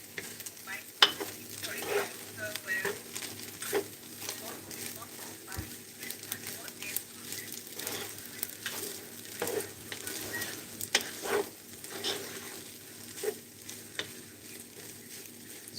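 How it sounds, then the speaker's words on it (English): Seasoned rice stirred in a pot, repeated scraping and stirring strokes with a light sizzle underneath, fairly quiet and close, with a person talking over it. "make sure that you stir well for everything to combine thoroughly"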